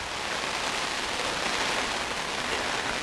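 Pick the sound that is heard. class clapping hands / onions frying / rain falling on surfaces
rain falling on surfaces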